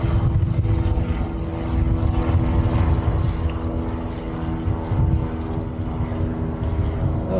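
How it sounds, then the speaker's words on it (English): A Japan Airlines Boeing 787 Dreamliner arriving from Tokyo at a Hawaii airport, its steady loud engine roar and low rumble filling the scene without a break. "This next arrival is our first Japan Airlines coming in from Tokyo."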